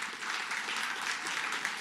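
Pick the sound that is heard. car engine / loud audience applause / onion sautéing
loud audience applause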